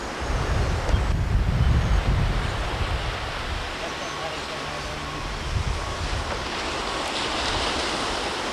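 Ocean surf and gusting wind at Melbourne Beach, Florida, a continuous loud wash of breaking waves with heavy wind buffeting the microphone, steady throughout.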